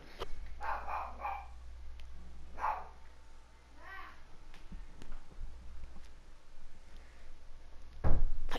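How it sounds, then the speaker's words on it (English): A dog barks in a few short bursts while fighting, with scuffling between them, over a low steady background hum and a sharp thump near the end. "Oh, my dog is fighting."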